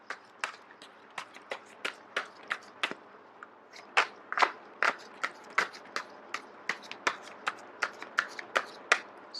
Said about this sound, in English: So once again, I am going to shuffle until the first card drops out.